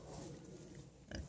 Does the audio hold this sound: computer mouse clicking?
no